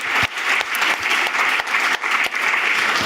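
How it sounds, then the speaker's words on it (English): A conference audience applauds in a sustained burst of clapping, loud and fairly close, with individual sharp claps standing out. "So, are we going to do the big clap, or?"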